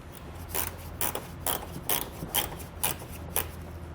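A ratchet backs out a 7mm screw under the fender corner of a vehicle, giving a rapid series of sharp metallic clicks in short regular bursts, close and fairly quiet.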